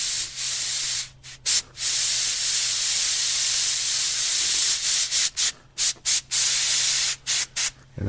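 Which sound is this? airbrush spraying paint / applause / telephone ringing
airbrush spraying paint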